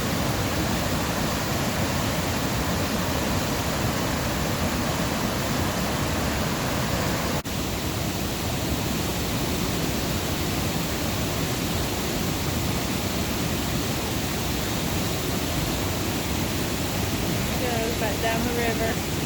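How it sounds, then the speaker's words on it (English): Rushing river water at the Sinks, a powerful, constant roar of churning current, loud and close throughout with no break. "Do not underestimate the power of the water there at the Sinks."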